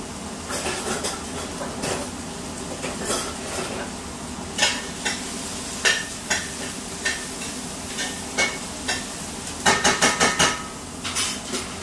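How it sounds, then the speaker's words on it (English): Food is stirred in a pan, with rhythmic scraping and clinking of a utensil against the pan over a steady background hiss, the strokes growing sharper and more frequent toward the end. "Just went ahead and gave that a little stir"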